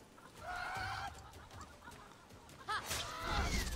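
Chickens in the Immortals Fenyx Rising video game cluck and squawk in a few short, nasal calls close by, with a rustling scuffle rising near the end.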